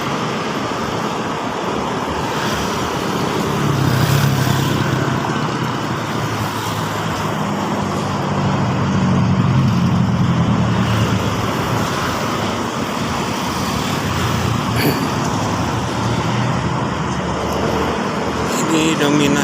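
Dense, heavy car traffic rumbles steadily at a rest area on the Cikampek toll road, loud and continuous throughout with a constant roadway hiss.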